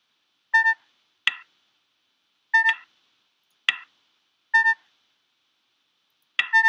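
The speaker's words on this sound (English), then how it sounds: "Where am I? Where's the blasted beeping coming from?" Electronic beeping during a game, in short tonal bursts that alternate with sharper clicky blips about every second, separated by silence, clear and close with no voices.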